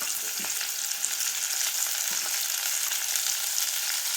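Onion and green chilies fry in oil with cumin and mustard seeds, giving a loud, constant crackling sizzle close up, with a couple of soft knocks from stirring.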